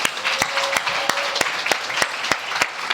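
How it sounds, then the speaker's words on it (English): An audience at a pitch competition event applauds with steady, dense clapping, punctuated by a few sharp individual claps standing out near the front, with faint voices underneath. "grand round of applause for Suraj"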